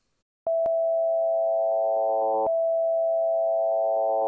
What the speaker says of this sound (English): you'll be able to hear the sequencer sending different values to the amount parameter.